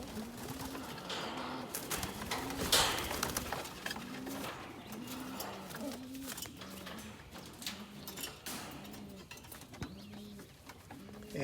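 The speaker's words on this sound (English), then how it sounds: "of the birds in here are either direct children out of Guinevere that have flown" Racing pigeons in a breeding loft coo steadily, repeated throaty calls overlapping in a close, continuous chorus with faint rustling and small background noises between them.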